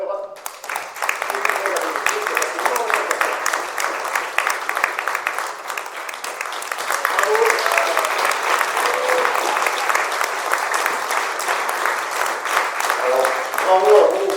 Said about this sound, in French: vous êtes applaudis par la salle